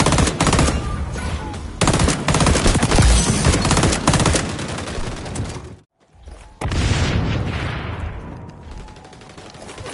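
Gunfire and grenade explosions in the shooter game xDefiant: dense rapid bursts of automatic fire and booms, loud and continuous, briefly dropping out to near silence before the shooting resumes.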